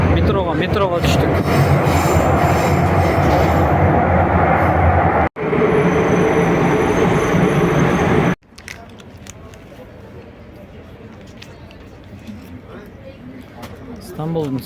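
Loud, steady rumble and rattle of a metro train running through Istanbul, with voices mixed in. The din cuts out briefly, then returns and drops to a quieter interior hum near the end.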